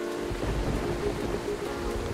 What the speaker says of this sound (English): I should leave before the storm gets worse.